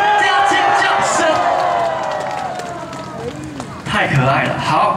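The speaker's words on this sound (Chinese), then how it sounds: "请给我们的邵总来点热情的掌声加尖叫声" A crowd at an outdoor temple-anniversary concert breaks into cheering and screams with scattered clapping, loud and near, while voices carry over the noise.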